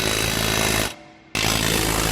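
Power tool driving down the suspension nuts on a Toyota RAV4 during a lift-spring install, a loud continuous buzzing run with a brief pause of under half a second before it resumes at full strength.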